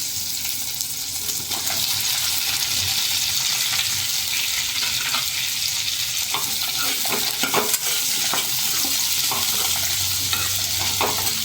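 Onions frying and being stirred in a pan of roasted spice masala for matar paneer, a steady close sizzle with scraping stirs and soft clinks throughout, no voices.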